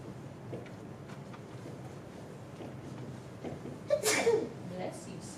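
A single sharp sneeze bursts out near the end, following quiet indistinct talk in a room.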